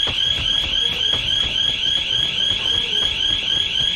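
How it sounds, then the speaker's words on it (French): A home alarm rings with a shrill, steady electronic tone and rapid pulsing beeps, sustained and loud throughout, with no voices. "je sais pas pourquoi il y a mon alarme qui sonne"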